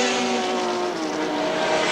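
Touring cars racing at Lakeside International Raceway in 1984, a loud, steady engine roar with a held, slowly shifting pitch as the cars dice for the lead, with no voices.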